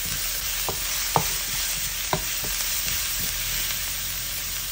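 Garlic and butter fry in a pan with a steady, loud sizzle while a utensil stirs, scraping and clinking against the metal in a few sharp taps.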